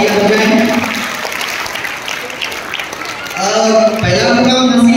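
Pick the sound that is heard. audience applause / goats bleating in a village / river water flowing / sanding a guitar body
audience applause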